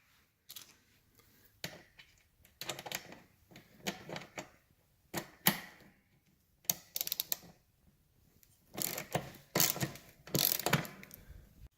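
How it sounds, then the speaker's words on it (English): Ratchet wrench with a 5/16 socket loosening seat track bolts on a 1969 Mustang Mach 1, heard as repeated bursts of close, crisp clicking ratchet strokes separated by short pauses, no talking. "I found that a 5/16 actually works pretty good."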